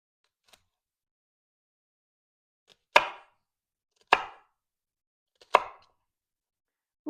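A knife chops an old, overripe pineapple into small chunks on a board, three sharp, close cuts spaced about a second apart, with a couple of faint taps before them and no talking.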